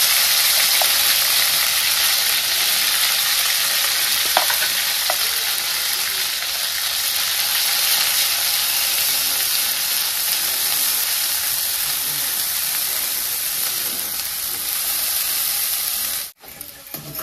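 Loud, steady sizzling of spice paste for dum aloo frying in hot oil, an unbroken hiss lasting throughout before cutting off abruptly at the end.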